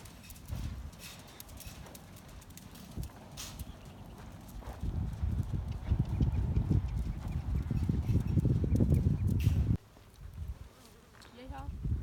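A horse's hooves clip-clop on an arena surface during a riding lesson, building from a trot into a louder, rhythmic canter before easing, with flies buzzing nearby and brief speech.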